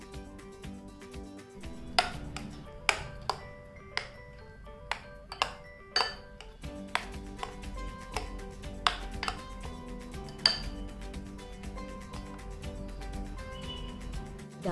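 A spoon stirs wild mango sasmi (kaatu mavina hannu) in a metal pot, producing scattered sharp clinks and taps at an irregular rhythm over a soft, steady musical background.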